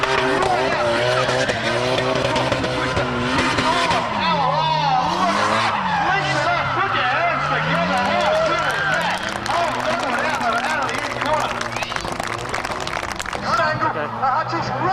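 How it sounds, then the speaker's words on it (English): Toyota AE86 drift cars, including a silver one, battle in tandem at a Drift Nats event, engines roaring and tires squealing continuously and loudly, with rising and falling revs under an excited commentator's voice. "it's the privateer battles, with Bo Yates in the silver AE86"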